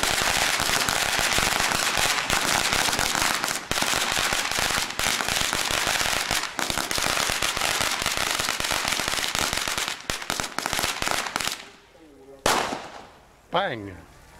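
Strings of firecrackers going off at a Thai temple, a dense, loud, continuous crackle of rapid bangs that thins out near the end, with a few separate sharp pops and some voices in the background.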